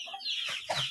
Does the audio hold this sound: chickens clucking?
yes